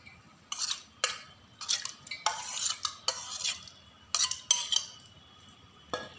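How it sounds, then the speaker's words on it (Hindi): Spoon stirring and whisking homemade yogurt in a large pot, heard as repeated scraping and clinking bursts in an irregular rhythm, close and fairly clear with no talk. "और मैं इसे चम्मच के सहारे अच्छे से मिला लूँगी।"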